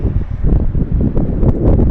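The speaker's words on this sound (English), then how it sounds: "it's a little windy up here because we're in the middle of this" Strong wind buffets the microphone on an open bridge span high above a river, a loud continuous rumbling roar with gusty surges throughout.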